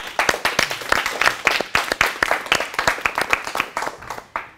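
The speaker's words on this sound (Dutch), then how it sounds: "En nog even een applaus voor onze gasten, alsjeblieft." A small studio audience at a Dutch talk show claps for the guests, loud close applause with many distinct hand claps in a quick irregular rhythm that fades out toward the end.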